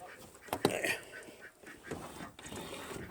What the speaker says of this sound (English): So yeah, 2 chickens, 3 ducks. Well, 2 ducks, 1 drake.